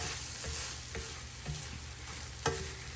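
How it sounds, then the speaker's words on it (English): Steady sizzling of food being stir-fried in a pan, with occasional scrapes and clinks of a utensil against the metal. "So we're just going to keep on stir frying this."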